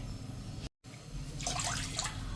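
Water is poured into a pan to set up steaming while making a Gujarati lentil dhokli dish, a splashing, gurgling stream rising after a brief dropout, close and moderately loud without talk.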